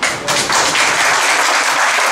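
Audience applause fills the hall, a dense, steady wash of clapping that holds at full strength from start to finish with no voices over it.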